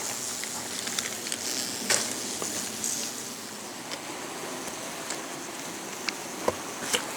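Bees buzz around hives as frames and boxes are worked through one after another during a forest honey harvest, a steady insect hum with faint crackles and a few sharp clicks.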